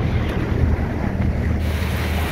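A wave slaps against the hull of a sailboat at sea, a broad watery wash blending with steady wind noise on the microphone and the low rumble of the open ocean.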